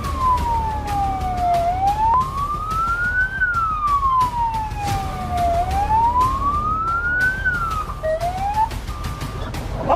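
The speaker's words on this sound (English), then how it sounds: "Turn off my siren!" A police siren wails continuously, sweeping slowly up and down in pitch, loud and steady over a low rumble of traffic.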